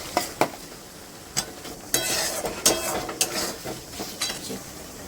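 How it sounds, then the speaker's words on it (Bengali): Potatoes frying and being stirred in spice paste for an egg onion curry, with a steady sizzle broken by repeated sharp scrapes and clinks of a spoon against the pan, close and fairly loud. "এবারে আমি আলু দিয়ে দিচ্ছি। আলুগুলোর মধ্যে কষিয়ে নেব।"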